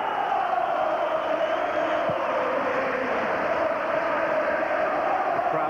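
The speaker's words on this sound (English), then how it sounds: "The crowd volume levels around Ibrox rise again." A football crowd of Celtic supporters at Ibrox during a Rangers v Celtic match, a dense, sustained roar from many voices that holds steady and loud from a distance.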